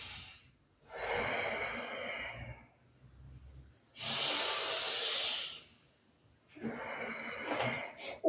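Yoga breathing exercise: three long, audible exhalations with quiet pauses between them, the middle one a sharp forceful hiss, all close and clear with no talking.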